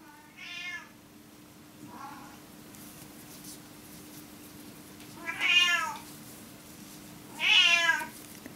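A male cat meows four separate times indoors, the first two short and quiet and the last two longer and louder, with near silence between calls apart from a faint steady hum.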